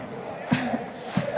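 Fiorentina fans cheering and chanting at an open training session ahead of a cup final, a distant, steady crowd roar with two brief louder shouts swelling above the noise.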